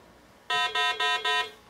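A harsh electronic game show lockout buzzer from a tabletop timer sounding in four quick, evenly spaced pulses, loud and close, with silence before it.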